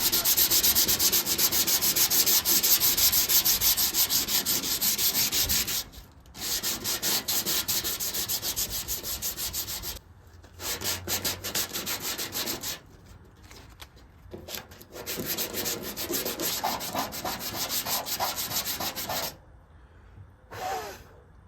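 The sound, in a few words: sanding an 85 Chevrolet Impala body with sandpaper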